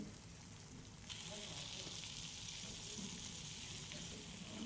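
Whole spices for a country chicken curry, including ginger, gram, a little pepper and cinnamon, roast in a pan with a soft steady sizzle that grows slightly fuller after a moment. It stays faint and constant with no clear talk.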